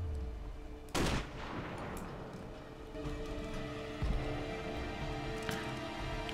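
Sniper rifle shots in the video game Sniper: Ghost Warrior, two sharp reports about three seconds apart, each followed by a trailing echo over a steady low ambient game bed.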